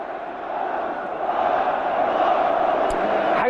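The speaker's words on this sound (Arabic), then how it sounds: "حط دايما الاسماء او صوت الجمهور دائما في الخلفيه" A football stadium crowd roars and chants as a broad, sustained mass of voices, swelling slightly louder after the first second and holding steady.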